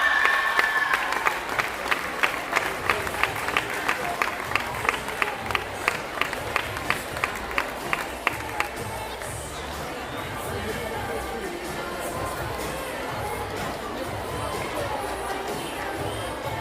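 Audience applause at a youth gymnastics results ceremony, steady rhythmic clapping from a crowd filling the hall for several seconds, then fading into general crowd chatter and murmur.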